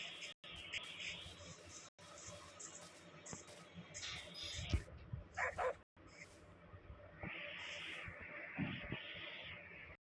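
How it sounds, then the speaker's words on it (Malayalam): A dog in the Minecraft video game gives a few short barks and whimpering yips, faint and scattered over a low background with gaps of silence, with no talking. "ഡോഗ് ഇങ്ങനെ ഒച്ച ഉണ്ടാക്കുന്നതിന് വല്ല മീനിങ് വല്ലതും ഉണ്ടോ?"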